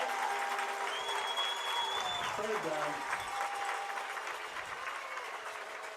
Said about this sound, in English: And a very appreciative crowd here.